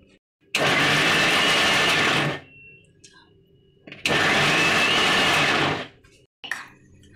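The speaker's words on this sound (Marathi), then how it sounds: "आता मी याला मिक्सरमधून दरदरी दळून घेते।" A kitchen mixer grinder coarsely grinds cooled bottle gourd chutney filling in two loud, steady bursts of about two seconds each, with quiet pauses and small clicks between.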